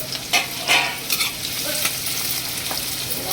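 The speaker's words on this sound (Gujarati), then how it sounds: "તો આપણે એની અંદર ડુંગળી જેની સમારેલી છે એ આપણે નાખી દઈએ" Chopped onion frying in hot oil with cumin seeds, a close, steady sizzle with a few scraping stirs and soft clatters, no voices.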